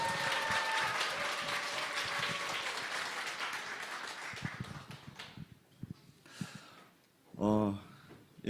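An audience at a church presbytery evangelism camp forum festival breaks into sustained applause that slowly fades, with scattered voices and a brief loud burst near the end.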